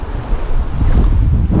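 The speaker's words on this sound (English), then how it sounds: "It's too windy." Strong wind sweeps across a fishing inlet on Florida's south side, buffeting the microphone with a loud, low, continuous roar and rumble. No one speaks.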